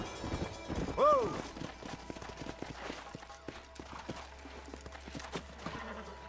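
Horses in Red Dead Redemption clip-clopping at a steady gallop with a brief whinny near the start, hoofbeats running throughout under a game soundtrack and voices.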